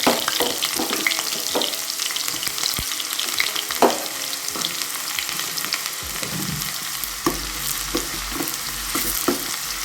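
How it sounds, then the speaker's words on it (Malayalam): Sliced shallots and chopped garlic fry in hot coconut oil with a loud, dense, crackling sizzle. Scattered sharp pops and occasional stirring scrapes sound close by throughout. "വെളിച്ചെണ്ണ ചൂടായിട്ടുണ്ട് ഞാനിവിടെ കുറച്ച് ചെറുള്ളി നന്നാക്കിയതും രണ്ട് മൂന്ന് വെളുത്തുള്ളി ചെറുതാക്കി അരിഞ്ഞതും ഇട്ട് കൊടുക്കുന്നുണ്ട്"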